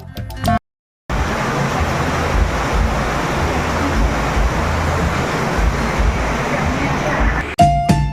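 Heavy rain and stormy, cold, damp wind in Gangtok, heard from a window seat in a crowded eatery: a loud, dense, continuous roar of rain and gusts, with a brief dropout near the start.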